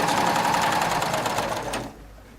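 A sewing machine fitted with an Ovation belt loop binder attachment runs in a fast, steady mechanical whirr of rapid stitching, close and loud, then stops abruptly near the end.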